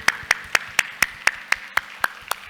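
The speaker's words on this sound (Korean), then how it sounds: "우리 하나님께 영광을 박수합시다." A church congregation claps in steady unison, each sharp clap evenly spaced in a quick rhythmic beat. The clapping is close and loud with no voices over it.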